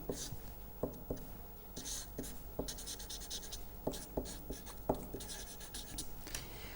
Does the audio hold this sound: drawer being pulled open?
no